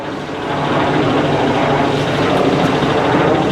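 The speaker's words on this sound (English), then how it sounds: "Nice little fighter jet going over there." A fighter jet passes overhead with a steady, loud broadband roar that swells slightly and holds for a few seconds, with no voices.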